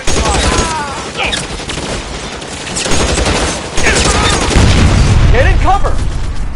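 Sustained gunfire during a shootout in L.A. Noire, dense volleys and booming shots rolling on throughout, loud and close, with game characters shouting over the fighting.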